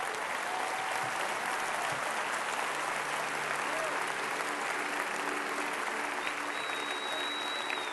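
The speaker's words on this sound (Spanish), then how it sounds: "Les damos un fuerte aplauso" A big church congregation at a Lakewood service claps in a loud, sustained wash of applause, continuous and even throughout, with faint tonal sounds drifting over the crowd.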